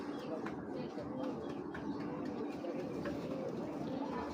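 Pigeons coo softly and continuously at fairly close range, a low, rolling murmur with a few faint chirps layered over the steady background.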